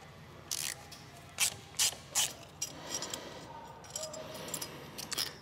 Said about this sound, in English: we'll pull those bottom 2 bolts out as well